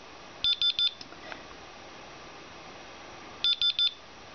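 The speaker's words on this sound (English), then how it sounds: "So that's the beeper for my 10-minute reading." A radiation counter's timer marks the end of a 10-minute count with a bright electronic beeper, two bursts of three or four rapid beeps about three seconds apart, over quiet background hiss.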